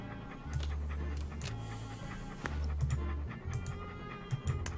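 A dog panting in the point-and-click adventure game Monkey Island 2: Special Edition, with steady loud breathy pulses repeating throughout, alongside some soft game sound effects.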